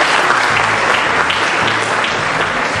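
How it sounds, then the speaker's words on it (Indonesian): An audience at a public lecture on a university campus in Jakarta claps together in loud, dense applause that holds steady throughout without a break. "Tepuk tangan buat kita semua adik-adik sekalian."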